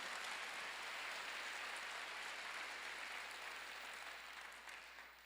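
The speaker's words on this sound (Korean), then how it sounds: "시간 박수를 하세요" A church congregation applauds during a midweek service, a dense, hissing wash of many hands clapping at once, steady and fairly distant, fading slightly toward the end.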